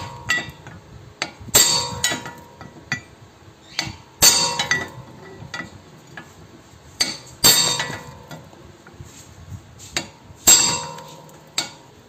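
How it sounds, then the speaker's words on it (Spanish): Sharp metallic hammer strikes on a ball joint extractor while swapping a suspension ball joint on a SEAT Leon, falling in irregular spaced bursts of single and double blows with ringing clinks, close and loud. "Vamos a darle unos golpes a ver si con la presión que tiene salta."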